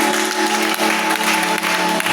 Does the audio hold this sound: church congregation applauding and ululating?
yes